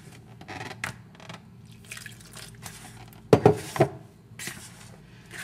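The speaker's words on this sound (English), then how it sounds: "So mixing everything well together and adding water as required" Wet dripping and squishing as flour and water are worked by hand into dough for Bengali luchi fried bread, soft intermittent sounds with a few louder sloshing squelches in the middle.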